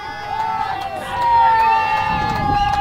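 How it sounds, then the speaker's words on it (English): Cheering from the Nova Scotia supporters at a T20 cricket match against Manitoba, a sustained crowd roar that swells in the middle, with shouts and babble over steady outdoor noise. "A lot of cheering from the Nova Scotia camp"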